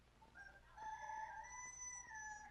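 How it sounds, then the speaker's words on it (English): Faint, distant crowing and clucking from chickens on a farm in 1950s Poland, a rooster's call rising and holding for a moment against quiet background noise. "Mother and Tadeusz go off to feed the chickens"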